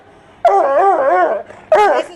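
An excited coonhound mix dog lets out a long wavering whine and then a short sharp bark, close and loud, with no talk over it.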